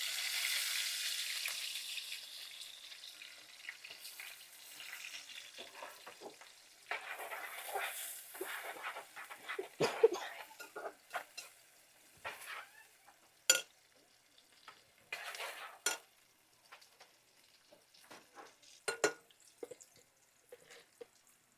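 Onion and green chillies frying in oil in a pan for a fish curry, opening with a strong hiss that fades into a steady sizzle broken by spatula clinks and stirring scrapes, close up, no talking.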